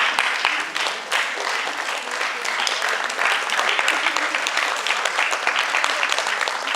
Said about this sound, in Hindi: तालियां बजाने में कंजूसी मत करिए।